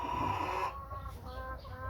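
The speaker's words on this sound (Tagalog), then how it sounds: "ito yung manok na hindi niya raw tatayuan hanggang hindi napipisaan lahat ng itlog niya" A native hen brooding on her eggs makes low, steady, close clucking sounds, a continuous soft murmur of throaty calls with no talking.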